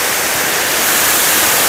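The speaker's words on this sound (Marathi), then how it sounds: "हा छोटा धबधबा आहे" A small waterfall near a cave at Thoseghar, foaming water roaring as a loud, steady broadband rush with no breaks.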